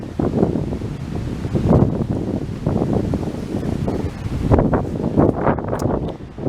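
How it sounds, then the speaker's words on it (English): Gusty wind buffets the microphone in a steady, rumbling roar that rises and falls in waves, loud and close, with no voices, outdoors in a botanic garden. "This very windy day."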